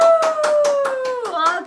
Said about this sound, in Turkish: Alkışlar Yaman Ali'ye.